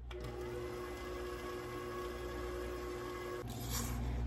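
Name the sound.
electric mixer with paddle mixing cookie dough on low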